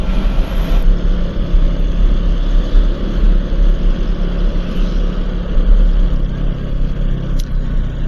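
A Kawasaki Ninja motorcycle engine runs with a steady, close, loud low rumble throughout, with no clear rises in pitch and no voices.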